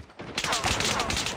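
A short burst of rapid gunfire from the mobile game Call of Duty Mobile, loud and close, rattling in quick succession after a brief quiet start.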